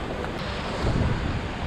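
Rough sea waves at the Mumbai seashore during heavy monsoon rain, a constant loud wash of surf mixed with wind buffeting the microphone, with no talk.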